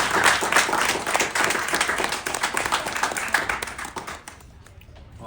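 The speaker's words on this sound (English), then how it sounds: "So, round of applause" A small dinner crowd claps for the kitchen crew at a private restaurant dinner, close, lively individual claps forming a dense burst that thins and dies away before the end.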